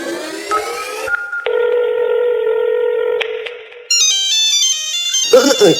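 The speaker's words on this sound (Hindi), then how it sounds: "ये फोन की आवाज यहीं से क्यों आ रही है?" A phone ringtone plays loudly: sustained electronic tones shift through a melody, followed by a rising run of bright beeps, then a brief noisy burst.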